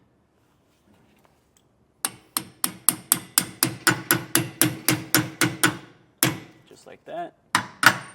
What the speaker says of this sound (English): we're going to use that to hammer in our new bushing